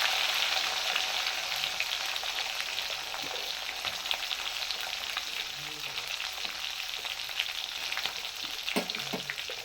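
Cumin, curry leaves and green chillies sizzle steadily in hot oil for a dish of horse gram saaru and palya, a dense continuous crackle with occasional louder pops and stirring, no voices.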